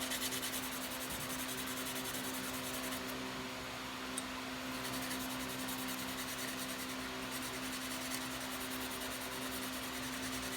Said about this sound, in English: first I'm gonna take some 220, sand up the edge